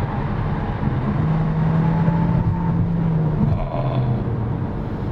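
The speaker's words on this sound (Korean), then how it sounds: "지금 시속 한 80에서도 가속 페달을 조금만 깊게 가져가면 등을 떠밀어 주는 게 느껴지거든요" A Hyundai Kona N Line accelerates from about 80 km/h, engine and road noise droning steadily inside the cabin with a faint rising tone partway through.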